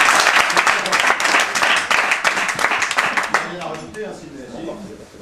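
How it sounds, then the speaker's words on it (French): A TV studio audience claps for a duo of show contestants, a dense round of applause that fades out over about five seconds while voices talk beneath it. "Et on applaudit le duo Bounty"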